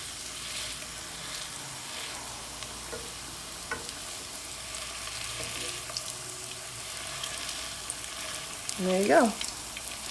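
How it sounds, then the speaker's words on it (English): Celeriac and carrot latkes frying in a pan, a constant soft sizzle with occasional spatula clicks, and a brief spoken phrase near the end. "And let it fry up."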